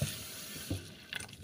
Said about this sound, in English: I add more water